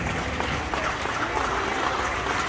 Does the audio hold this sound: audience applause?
yes